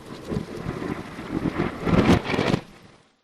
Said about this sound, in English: like the thunder rumbles in reverse. So like we hear like the building of it and then the clap.